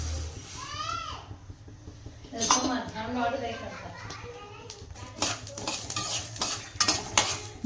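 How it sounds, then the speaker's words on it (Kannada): Mustard seeds roasting in a pot as a spoon stirs them, scraping and metal clinks under light sizzling, with children's voices and chatter in the background. "ಈಗ ಈ ಸಾಸಿವೆನ ಚೆನ್ನಾಗಿ ಹುರ್ಕೊಳಂಬ್ರಿ."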